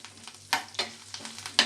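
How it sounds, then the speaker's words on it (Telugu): Lentils, curry leaves and garlic fry lightly in a pan for karapusa mixture, giving a soft crackling sizzle punctuated by several close, scraping stirs, with no voices. "ఈ పప్పులు కూడా బాగా ఫ్రై అవ్వాలి."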